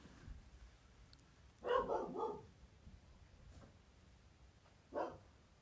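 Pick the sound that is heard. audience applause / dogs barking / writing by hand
dogs barking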